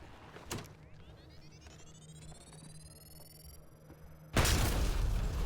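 A Mass Effect: Andromeda explosion on New Tuchanka goes off near the end as a sudden loud, broad burst. Before it come a faint thump, a rising electronic whine and quiet background rumble.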